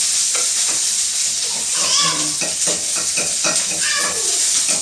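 Onion and tamarind tempering hissing hard in hot oil in a pan for a Tamil manathakkali keerai kuzhambu, a steady loud sizzle with a few stirring scrapes and clinks, no talking.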